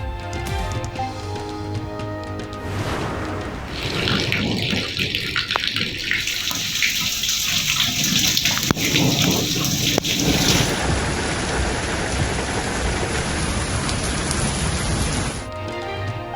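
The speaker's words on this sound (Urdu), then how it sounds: "پنجاب کے مختلف علاقوں میں گرج چمک کے ساتھ طوفانی بارش" Heavy monsoon rain pours steadily during a thunderstorm in Punjab, a dense continuous hiss of water on surfaces heard up close, with no voices over it.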